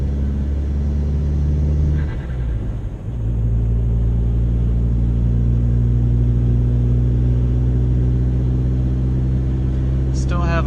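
A four-cylinder car engine idles with a low, steady rumble, dips briefly, then holds a loud, even drone throughout, ending with a short rising rev near the close.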